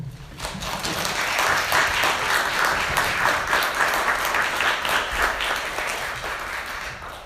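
Audience applause after talks at a panel on intergenerational trauma and mental health in AAPI communities: a warm, sustained roar of many hands clapping, building quickly and holding steady before tapering slightly.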